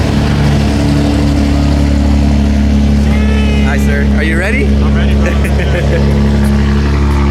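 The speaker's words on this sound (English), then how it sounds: "Look at the Valtronic exhaust, guys. God damn, that shit is loud." A loud car engine with a Valtronic exhaust idles and revs with a deep, throaty exhaust rumble, while two people talk briefly over the noise close by.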